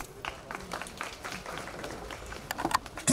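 An audience claps steadily through a short stretch at a Romanian folk costume gala and conference in Slănic Moldova, the applause moderately loud and fairly even, with a sharper, louder burst at the end.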